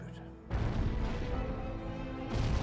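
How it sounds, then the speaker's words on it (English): Explosions blowing up a camp in the Fallout TV series: a loud sustained roar of blasts and rumble that swells again near the end, with voices faintly underneath. "he's just blowing up the camp"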